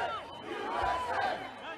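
A mob chants during the storming of the U.S. Capitol, a dense roar of many voices shouting together in a sustained, loud crowd sound with no clear gaps.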